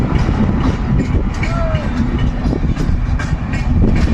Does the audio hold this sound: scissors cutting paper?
no